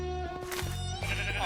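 Goats bleating in the Minecraft video game, two wavering game-sound bleats in quick succession, loud and close, with no talk over them.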